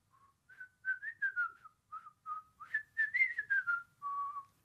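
A person whistles a bright, wavering tune of short rising and falling notes, clear and close with no talk, in a festive children's classroom setting.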